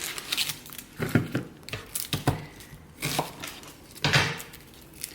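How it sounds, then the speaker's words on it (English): A knife cuts lengthwise through a halved red onion on a board, giving several crisp slicing and tapping sounds with brief crackles, heard close in a quiet kitchen. "Make sure you've got it nice and secure on the board and cut it lengthwise."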